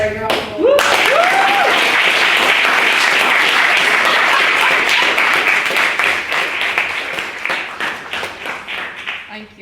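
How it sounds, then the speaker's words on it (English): Sustained audience applause in a debating chamber during a motion on Thatcher and the economy, dense clapping that rises quickly after a brief spoken voice, holds strongly, then thins out toward the end. "I think that you deserve a round of applause for your own."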